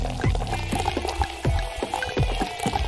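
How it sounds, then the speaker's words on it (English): Soda is poured into a glass, with close, continuous fizzing and splashing liquid that pulses irregularly for a few seconds. "I'll pour the soda into the glass."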